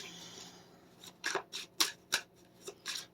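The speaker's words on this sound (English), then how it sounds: "I'm going to cut the deck in half, and I'm going to lay out the cards." Playing cards cut and handled on a table indoors, giving a series of about six short crisp snaps and riffles, close and fairly quiet, with no talking.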